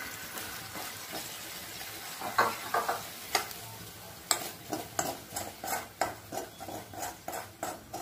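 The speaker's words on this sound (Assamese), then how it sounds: "মাছখিনি দেখিবলৈ পাইছে তেলটো ফুটি গৈছে" Goroi fish frying in a pan of bubbling hot oil gives a steady sizzle and hiss, with repeated stirring scrapes and utensil clinks that become more regular and rhythmic in the second half. No one speaks.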